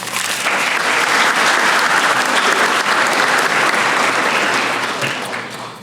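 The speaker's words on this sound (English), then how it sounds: "we want to give him a round of applause." Loud, sustained audience applause at a small business recognition awards ceremony, a dense wash of many hands clapping that tapers off slightly near the end.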